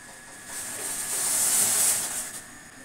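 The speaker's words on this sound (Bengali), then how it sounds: "এবার চায়ের জলটা তো ফুটে গেছে, এবার চা পাতি দিয়ে দিই।" Tea water boils in a pot on a home kitchen stove with a soft, steady hiss that swells in the middle and then fades a little.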